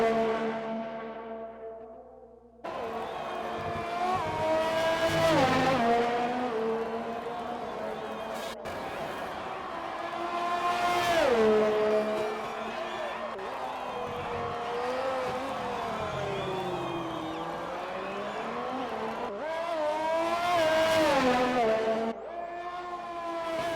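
Race car engine in a sim racing game at the Canada circuit, a loud droning engine that rises and falls through gear changes as it brakes into a hairpin and accelerates out, with commentary over it.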